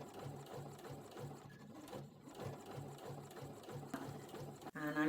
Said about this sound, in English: I'm going to top stitch the lower edge as well